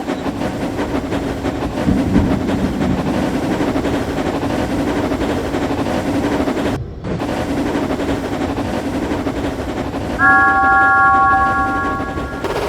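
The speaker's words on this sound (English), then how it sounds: "James and Thomas happily pulled their express train along the express line." A model train in a Thomas and Friends story rumbles and rattles steadily along the track with a rhythmic clatter, briefly dropping out midway, then a sustained whistle-like tone sounds near the end.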